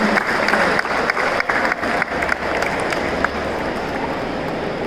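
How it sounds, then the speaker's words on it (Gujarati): A crowd at a felicitation ceremony during an Umiya Mataji procession in Nakhatrana bursts into dense, loud, sustained applause that fills the whole stretch, with a few sharper claps standing out. "આપણે જોરદાર તાળીઓથી વધાવીએ"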